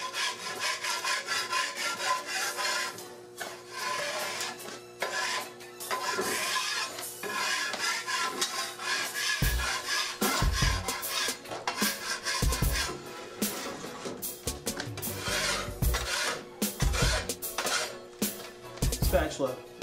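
An old spatula scrapes a wooden board clean in repeated rough strokes, a close, steady rasping rub that carries on throughout.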